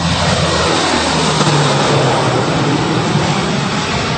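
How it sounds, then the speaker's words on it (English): A Hercules aircraft takes off from the Lokichogio airbase in northern Kenya with a loud, close, continuous engine roar that fills the whole stretch without a break. "a Hercules aircraft claws into the sky, taking food aid to South Sudan"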